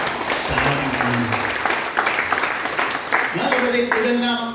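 A church congregation applauding loudly, dense sustained clapping that runs throughout, with voices calling out and talking over it.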